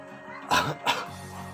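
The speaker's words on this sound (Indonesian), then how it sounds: "Sorry batuk guys" Two quick coughs close by, one right after the other, over a quiet background hum.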